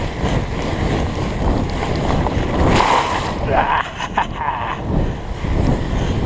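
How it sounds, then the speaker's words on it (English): A Surly Moonlander fat bike rides through a water crossing on a night trail, with a loud rushing splash and spray over steady wind noise on the microphone. "But we have to do the water crossing again."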